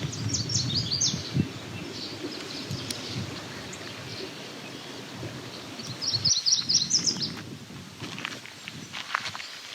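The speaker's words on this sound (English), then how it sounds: "There's the meadowlark being a lot louder now, eastern meadowlark" An eastern meadowlark sings out in open backroad farmland, two bright whistled phrases standing clear above nearby footsteps and rustling, the second phrase louder.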